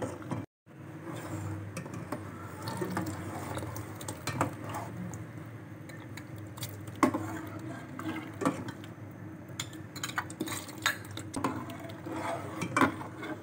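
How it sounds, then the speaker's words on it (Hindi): A spoon stirs rice kheer in a pot, giving soft, faint scraping and gentle liquid swishing that runs steadily throughout, with occasional light clinks. "बस अब हमें चमचा चलाते ही रहना है ताकि हमारी खीर लग ना जाए।"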